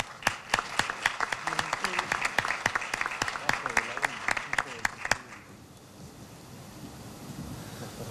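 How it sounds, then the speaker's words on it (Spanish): Applause at an evening award ceremony honouring a vice admiral. Steady rhythmic hand claps ring out for about five seconds, then fade into a hushed room murmur with low background noise. "El aplauso para él."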